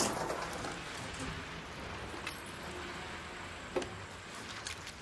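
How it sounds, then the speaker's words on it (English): Steady rainfall in the video game ARC Raiders, a constant soft hiss of drops with a few sharp ticks and taps standing out, heard alone without talk. "It's harder to hear because of the rain"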